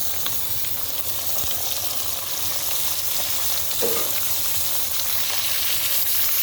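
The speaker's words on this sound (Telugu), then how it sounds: "క్యారెట్ వేసుకొని ఇప్పుడు కలుపుకుందాం." Carrots frying in a pan for a carrot, chana dal and coconut stir-fry, a dense continuous sizzle with faint scraping from stirring throughout.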